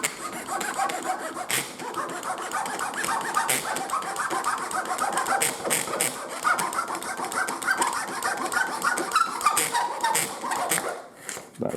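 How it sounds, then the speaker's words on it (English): Razor saw trimming wooden pins on a wooden steam engine model, a steady rapid rasping back-and-forth scratch that continues close and fairly loud for the whole stretch, with brief pauses near the end. "we're just going to trim back these pins. So we can use a razor saw for that"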